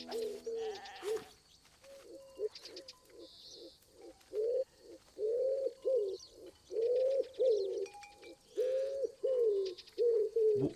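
A common wood pigeon in the video game Alba coos in a repeated, rhythmic phrase. The soft hooting notes come in regular bursts over several seconds, with some faint game ambience behind them.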